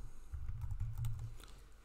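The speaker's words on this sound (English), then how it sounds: "start typing performance" Fingers type on a computer keyboard, a quick run of soft close clicks over a low hum, faint and steady.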